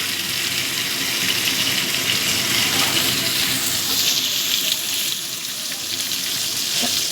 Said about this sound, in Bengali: আলু আর পেঁপেটা দিয়ে একটু ভাজা ভাজা করে নেব